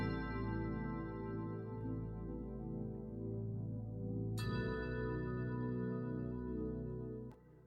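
A dry Rhodes-style D50 Fantasia keyboard sample with no effects plays sustained, bell-tinged electric piano chords, with a fresh chord struck partway through and another brief attack near the end, clear and steady with no voices.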